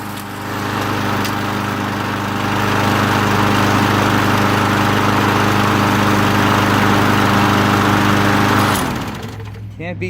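A walk-behind lawn mower engine runs steadily at a loud, close, even drone with harmonic hum, holding a constant idle for several seconds before cutting off abruptly near the end.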